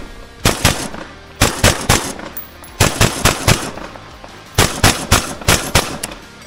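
Rapid bursts of gunfire from rifle and pistol at a shooting competition, fired in four tight clusters of three to five sharp, loud cracks each, with brief pauses between groups.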